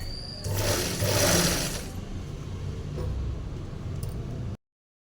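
A sewing machine runs a picot stitch along the edge of a saree, whirring steadily and close by, louder at first, then settling into an even hum before stopping.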